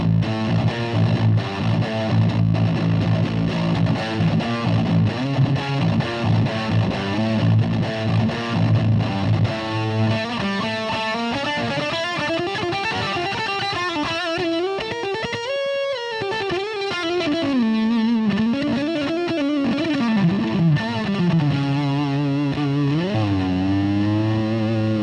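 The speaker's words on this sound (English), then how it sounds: "so let's see what it sounds like now on a drop-tuned 7-string" Drop-tuned 7-string electric guitar through a TC Electronic Dark Matter distortion pedal, playing a continuous, heavily saturated riff with thick low chugs and sustained distorted notes, loud and alone throughout.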